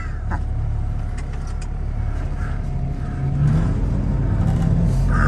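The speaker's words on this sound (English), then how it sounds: "Backwards and slam on the brakes." A heavy chip truck with a live-floor trailer rumbles up close, its low drone surging and shifting about halfway through as it reverses, lurches and stops under hard braking.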